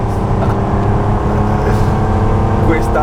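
A Porsche 911 Turbo 3.3 of the 930 generation runs with a loud, steady engine drone and some whine on top, close to the listener, while someone talks over it.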